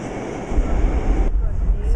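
A New York City 6 train at the 33rd Street subway station rumbles loudly with a steady low roar, a high whine running through it until the noise drops abruptly partway through.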